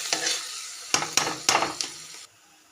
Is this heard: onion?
yes